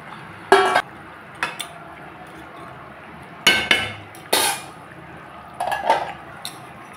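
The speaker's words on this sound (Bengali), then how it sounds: "এখন দিয়ে দিব মাছ।" Pieces of snakehead fish are dropped into a simmering potato and taro curry, giving a few separate wet splashes and clinks against the pot over a soft background hiss.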